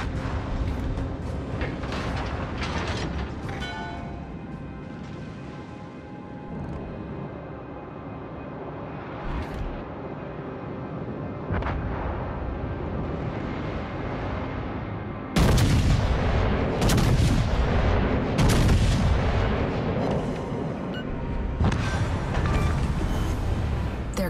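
Warship artillery in the World of Warships: Legends naval battle game, repeated heavy cannon booms and gunfire over a background of music and battle noise, growing louder and denser toward the end.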